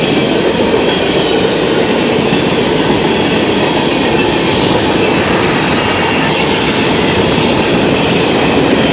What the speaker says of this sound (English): But this train may have a hot box.